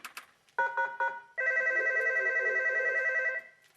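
A telephone rings in a doctor's office, with a few short electronic trilling bursts followed by one long sustained ring that stops abruptly.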